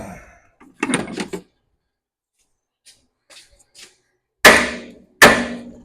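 Hammer blows ring out on a Mack CL713 truck part while loosening a stuck fitting: a quick cluster of strikes, a few faint taps, then two loud, sharp metallic hits close by.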